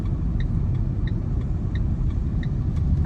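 A Renault Clio 4 1.5 dCi diesel car driving gives a steady low rumble of engine and road noise from inside the cabin. Faint regular chimes repeat over it, and no one speaks.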